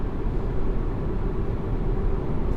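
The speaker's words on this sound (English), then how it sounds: "that whirring from the engine" Inside a moving 2019 BMW 320i, a low, steady engine whir blends with road rumble as the car drives, an even drone with no sharp changes.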